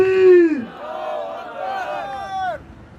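A crowd at a political rally in Vadgam, Gujarat, shouts Allahu Akbar back after a Takbir call, one loud rising and falling collective chant of several voices lasting a few seconds.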